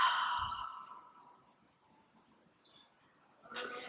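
A long, soft exhale during a morning breathing exercise fades slowly, followed by quiet room tone and a brief rustle at the end.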